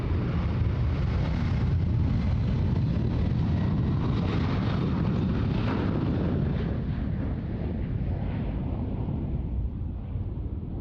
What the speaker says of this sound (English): I think that was Qantas 23 off to Bangkok this morning